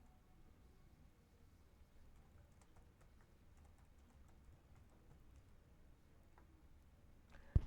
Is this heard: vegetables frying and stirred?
no